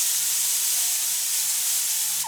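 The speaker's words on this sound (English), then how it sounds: "we're going to use this angle grinder here to take off the paint" An angle grinder strips paint from bare metal, giving a steady, loud, broadband hiss that runs unbroken for the whole stretch with no voices.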